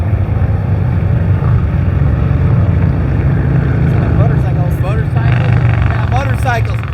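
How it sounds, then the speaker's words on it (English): A truck passing on a nearby four-lane highway, a loud continuous low engine rumble and road roar close by, with wind buffeting the microphone and a voice speaking over it toward the end. "hear that truck?"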